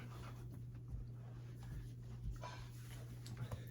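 Soft, close shuffling and faint breathing from a small dog, with light scratchy movements over a steady low hum.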